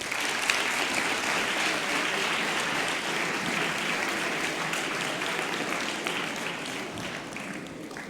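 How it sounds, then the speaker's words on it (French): Audience applause at a lecture on the Marquis de Sade, honouring descendants of the Sade family in attendance: a dense, sustained crowd clapping that stays steady throughout and eases only slightly toward the end. "je pense qu'on peut déjà les applaudir"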